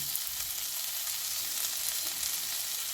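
Prawns sizzle as they fry in a hot pan with potato and cauliflower, a steady close hiss with faint crackle that runs unbroken throughout.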